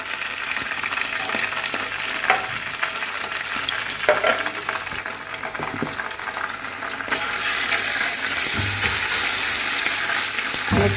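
A teaspoon each of ginger and garlic fries in oil, giving a continuous close hiss and crackle while a spoon stirs it. The sizzle grows slightly louder toward the end, with no speech.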